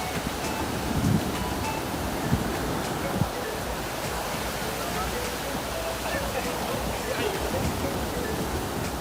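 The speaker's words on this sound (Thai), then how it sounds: "แม่ระวังคลื่นมันชี้บอกนะเนี่ย" Sea waves break and wash continuously on a Thai beach, a steady mid-level roar with occasional wind buffeting, while voices talk faintly over the surf.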